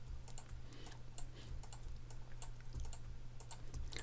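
Computer keyboard keys and mouse buttons clicking in quick, irregular bursts during photo retouching with a healing brush, close and fairly quiet over a steady low hum.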